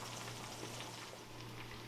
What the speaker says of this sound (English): the first thing I throw in the skillet with a little bit of oil is the Irish bacon